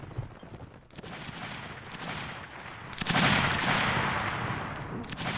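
Massed musket-style gunfire crackles in a line battle game, a dense ragged volley of overlapping shots swelling louder midway and rolling on with echoing tails.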